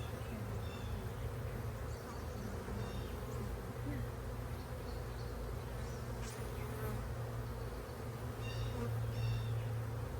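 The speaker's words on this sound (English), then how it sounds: "need to shake some bees." Honeybees buzz in a dense, continuous drone during a hive split, a close swarm hum with individual bees passing near now and then, fairly faint overall.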